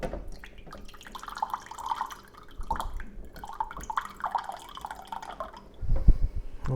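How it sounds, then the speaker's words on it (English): Water pours from a ZeroWater filter jug into a container, a gurgling trickle with a few drips that stops briefly before a louder splash near the end. "let's get some water out of this ZeroWater filter"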